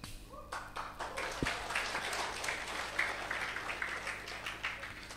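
Lively audience applause at a religious talk by KH Syaiful Karim, steady clapping throughout that is moderately loud but somewhat distant, with a low hum underneath and no speech on top.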